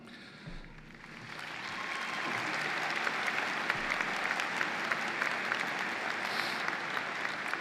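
A large audience claps at a high school graduation ceremony, the applause swelling from a quieter start into a dense, sustained round that holds steady.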